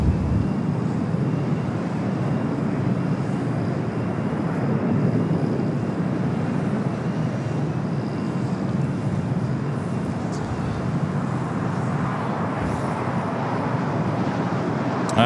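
A jet lands on runway 25 Left at LAX as a broad, continuous engine roar fills the air, steady and loud from start to finish.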